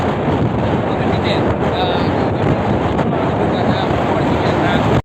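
Steady, loud wind buffets the microphone on the rooftop of an old building, a continuous broadband roar with no break for the full five seconds and no one talking.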